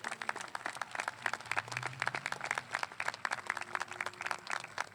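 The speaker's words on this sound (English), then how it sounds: "recognize class of 2020 with a round of applause and acknowledgement for their hard year" Graduation audience clapping for a high school class, a faint, distant patter of scattered hand claps running steadily throughout without any voices.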